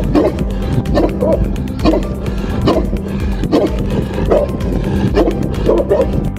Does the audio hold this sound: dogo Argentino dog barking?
yes